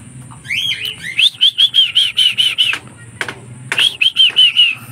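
Young pigeons at a loft trapdoor, with a flurry of wing flaps and then loud, close, rapid runs of repeated chirping calls in two bursts separated by a short pause.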